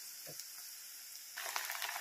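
Ginger garlic paste fries quietly in a pan, giving a soft steady sizzle that grows a little louder and crackly toward the end, with no one talking.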